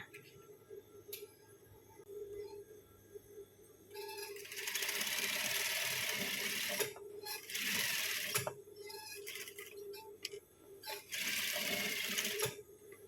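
A sewing machine stitches the underarm seam of a shirt sleeve in quick motorized bursts separated by short pauses, with a quiet hum and clicks in between.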